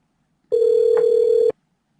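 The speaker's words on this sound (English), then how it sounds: "Oh snap! It's ringing." A telephone rings on an incoming call during a call-in show: one steady electronic tone about a second long, loud and close, with silence on either side.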